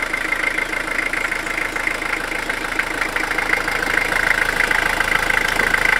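A van engine idles after a battery warning light fix, running steadily with a faint knock and vibration. The low mechanical hum stays loud and close throughout, with no talking.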